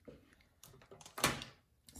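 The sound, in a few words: door blown by the wind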